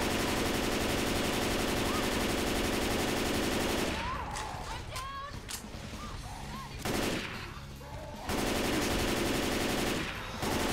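Gunfire from guns in Left 4 Dead 2, a rapid rattle of shots over several seconds beneath a dense, constant wash of loud game noise and music.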